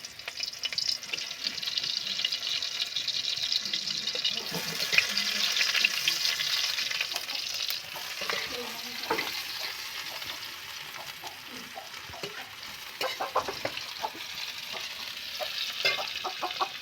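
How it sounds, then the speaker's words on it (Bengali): Onion sizzling and frying in hot oil in a pan, a steady close crackle with occasional stirring scrapes, no talking. "তেল গরম হয়ে গেছে, এবার পেঁয়াজটা দিয়ে দেবো।"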